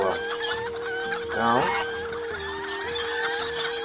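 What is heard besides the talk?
chickens clucking in the video game LOTRO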